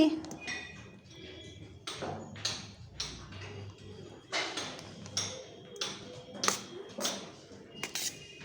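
Repeated sharp taps and clinks from cement construction work nearby, coming in irregular bursts at moderate distance with quieter gaps between them.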